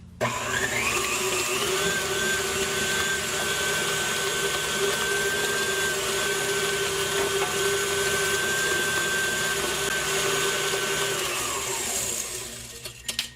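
An electric mixer beats eggs into pound cake batter, a continuous steady motor whir with a whining tone that runs evenly for several seconds before winding down at the end.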